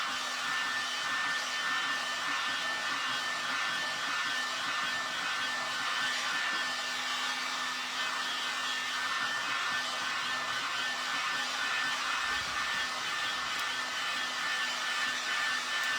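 A hair dryer blows steadily and loudly the whole time, drying fresh paint on a wooden wine box during a furniture makeover, with a constant whirring hum and no pauses.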